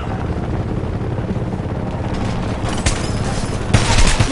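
Transport helicopter in the shooter game Homefront, a rumbling rotor drone under bursts of gunfire and booms, with louder impacts near the end.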